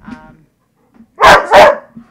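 A puppy gives a short, quiet whimpering yip, then after a pause two loud, close barks in quick succession, with no talk over them.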